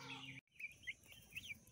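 Easter Egger chickens clucking close by, a few short throaty calls scattered over a couple of seconds, briefly broken by a moment of silence.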